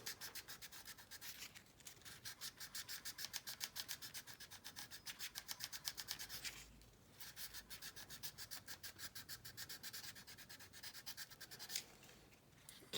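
Sandpaper rubbing back and forth over the plastic surface of a 1/32 Dornier Do 335 scale model kit, a steady close rasping stroke rhythm with brief pauses near two and seven seconds, no talking.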